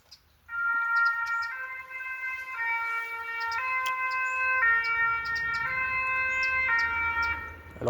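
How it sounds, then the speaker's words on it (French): An ambulance siren wails in a repeating two-tone pattern as it passes by along a canal, fairly clear with a steady rhythm of alternating pitches. "À l'ambulance."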